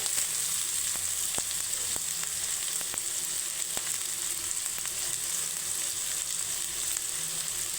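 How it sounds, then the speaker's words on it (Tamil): Onion, green chili and curry leaves sautéing in a pan, an even continuous sizzle with a few sharp clicks of a spoon scraping the pan, close and steady with no voices. "பச்சை மிளகா வெங்காயம் நல்லா வதங்கிடுச்சுங்க"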